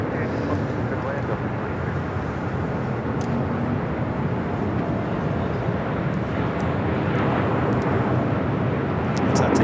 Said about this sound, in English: We do have a United Dreamliner rolling down to 25 at right.